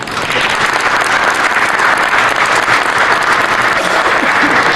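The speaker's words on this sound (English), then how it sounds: "another nice big round of applause" A mall audience at a police thank-you event breaks into loud, sustained applause, dense clapping that swells in at the start and holds steady throughout.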